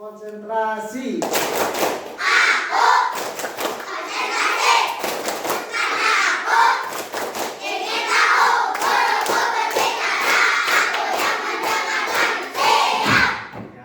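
A classroom group follows a teacher's patterned clapping routine: bursts of sharp hand claps in quick rhythmic sets, close and loud, with children's voices and shouts mixed throughout.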